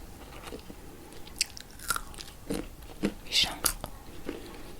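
Seeds crunched between the teeth in a close-up ASMR eating session, giving several sharp, crisp bites and chews spread unevenly over quiet background hiss.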